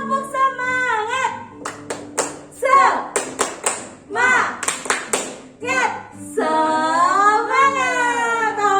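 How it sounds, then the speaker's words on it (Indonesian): Rhythmic clapping from a church congregation during a spirited group clap, sharp claps in bursts and patterns interleaved with a lively voice chanting and singing over them. "Tepuk semangat yuk, tepuk semangat."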